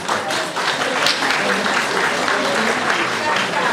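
Audience applause at a concert, welcoming a singer trained in Brno; dense, steady clapping from a large crowd fills the hall evenly throughout, loud and continuous without pauses.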